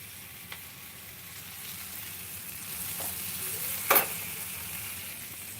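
Gravy ingredients roasting in a pan, a continuous soft sizzle with a few scattered clinks and one sharp metallic scrape of stirring near the end.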